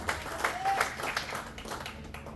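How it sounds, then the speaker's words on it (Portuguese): A church congregation claps for Jesus during a sermon, a brief, fairly faint patter of applause with a few sharper claps standing out, fading as it goes. "Vale um aplauso a Jesus"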